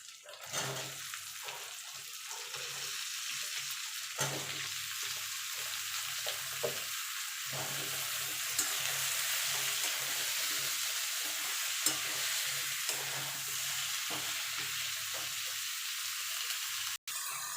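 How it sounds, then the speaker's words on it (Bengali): A spinach and vegetable curry frying and sizzling in a pan as it is stirred, a soft steady hiss with scraping strokes of the spoon recurring every few seconds, close and fairly quiet, with no talking. "এবার একটুখানি নাড়াচাড়া করে নেব।"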